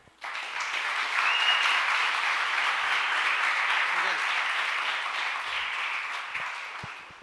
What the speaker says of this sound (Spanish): yo quiero, para empezar, que ustedes se regalen un gran aplauso por estar aquí